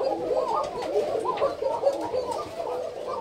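Pigeon cooing nearby in a rooftop or farm loft setting, a series of soft throaty coos repeating in quick succession, close and clear.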